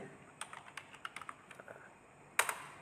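Someone types a search term into a web browser: a sparse run of light, close keyboard clicks at an uneven pace, ending with a sharper double tap like an Enter key.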